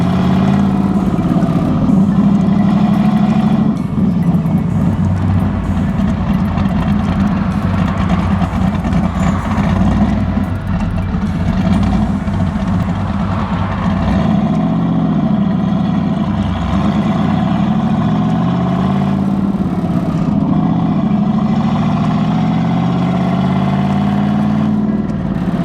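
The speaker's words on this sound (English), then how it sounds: "Just listen to that cam, the idle's amazing." A big-turbo Camaro with a wide-LSA camshaft idles loudly and steadily, its lumpy, rhythmic low rumble close and continuous with slight surges in pitch.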